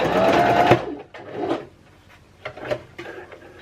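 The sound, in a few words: sewing machine sewing zigzag stitch while mending clothes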